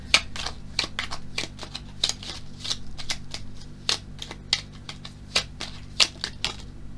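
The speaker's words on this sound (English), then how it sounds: "Still shuffling." A tarot card deck is shuffled close by, giving a quick run of crisp riffling snaps and soft taps that come at an uneven rhythm over a low steady background hum.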